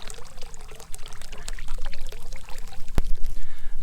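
Hot water pours from a pipe into a homemade hot tub, a continuous splashing trickle that grows gradually louder, with a sharp knock near the end.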